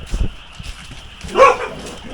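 A Korean Jindo dog at home gives a short bark, preceded by faint scuffling, heard up close and alone.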